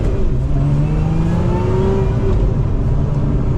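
A 2024 Lotus Emira's supercharged six-cylinder engine pulls smoothly under acceleration, a steady loud drone with rising harmonic tones heard from inside the car, no talking.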